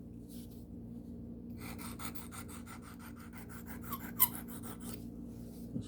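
A pocket knife blade is drawn across a sharpening stone in a quick series of soft, even scraping strokes, faint and close, followed by a small tap.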